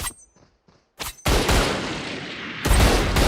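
Heavy sniper shots from the Marshal rifle in Valorant, a few sharp booming reports with reverberant tails, loud and close, separated by brief quieter gaps with softer game sounds.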